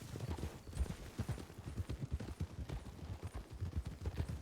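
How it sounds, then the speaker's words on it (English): Horses' hooves clip-clop steadily from behind at close to moderate distance, a continuous uneven rhythm of many soft thuds with no talking. "Heard horses behind us"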